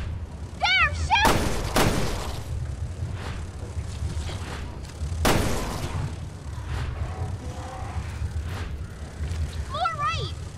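Gunshots fired at invisible monsters in Resident Evil Revelations 2 on PS4, a few loud sharp blasts spaced seconds apart, with game voices and eerie creature cries around them.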